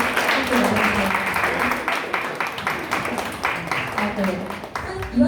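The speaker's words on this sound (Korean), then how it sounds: "네, 플로어 박수로 함께 나와주세요" Audience clapping at a 2023 company new-year kickoff and all-hands meeting as award recipients come forward, a steady moderate wash of hand claps with talking and murmur mixed underneath throughout.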